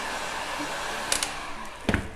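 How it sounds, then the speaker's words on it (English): Heat gun blowing hot air onto Woodubend, a steady close airflow hiss lasting about two seconds, with a few faint taps and clicks near the end. "So give it another little blast of heat"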